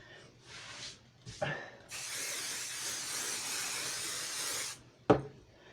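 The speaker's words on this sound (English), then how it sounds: "Spray the back in" An aerosol can sprays in a long, steady hiss lasting a few seconds, preceded by a short burst and followed by a sharp clack.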